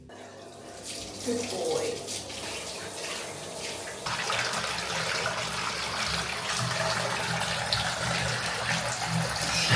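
Tap water runs steadily while a small dog is bathed at home, the flow growing fuller partway through; a person speaks briefly over the splashing stream.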